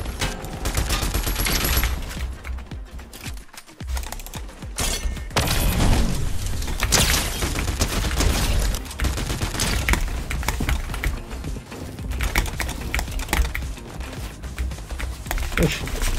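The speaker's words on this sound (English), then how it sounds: "Getting shot by another team." Heavy gunfire in a competitive shooter pours in from an opposing team, rapid overlapping shots and impacts running nearly nonstop and loud throughout.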